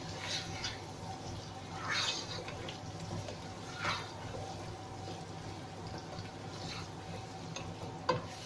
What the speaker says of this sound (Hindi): मीट को हमने 3 से 4 मिनट फ्राई किया है।